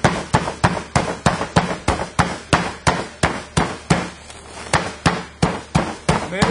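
Rhythmic, sharp pounding of beeswax on a firm surface to crush it fine, about three blows per second, close and loud, each strike with a short decaying thud.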